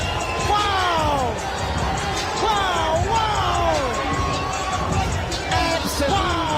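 An arena crowd at an MMA event erupts after a knockout finish, with loud roaring, cheers and excited shouting swelling and surging throughout, close and dense with overlapping voices.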